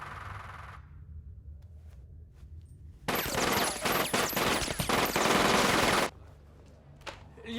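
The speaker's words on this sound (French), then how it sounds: "Lieutenant, des coups de feu." Gunfire erupts in a French film: a dense, loud burst of rapid automatic shots lasts about three seconds, then cuts off, with quiet ambience before and after.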